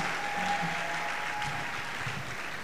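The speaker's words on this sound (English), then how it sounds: "Can we clap better for Jesus?" A church congregation claps for Jesus at a service, a steady wash of applause with a faint sustained tone running beneath and muffled voices mixed in.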